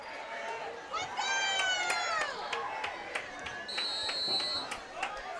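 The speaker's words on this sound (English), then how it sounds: "Crowd loving that." Crowd cheering at a high school football game, Eudora Cardinals at Tonganoxie Chieftains, a broad roar of voices swelling and holding for several seconds, with whistles and clatter on top.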